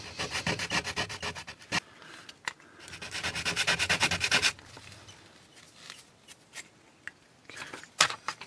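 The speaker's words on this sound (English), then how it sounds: "I'm going to take some of it down with the coarse sandpaper first, and then I will clean up with the emery board" Coarse sandpaper rubs back and forth on material for a scratch-built HO scale model bridge. Quick rhythmic strokes come in two close runs, then scattered lighter scrapes and taps follow, with no talking.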